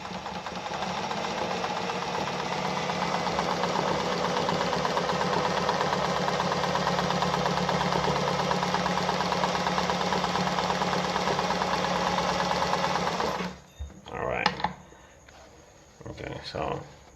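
A Pfaff 260 sewing machine running a straight stitch, a steady close mechanical hum and rapid needle chatter for about thirteen seconds before stopping, followed by a few handling clicks.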